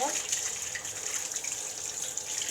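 Tap water running during handwashing, a soft steady hiss that continues through the whole stretch, with a faint voice in the background.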